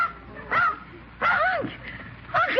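A dog in a classic radio show gives three short barks and yips, evenly spaced and close, with people talking around them.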